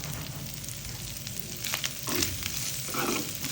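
Dried loitta (Bombay duck) fish sizzles steadily in hot oil, a close crackling fry with occasional scrapes and stirring as the pan is handled, with no voices.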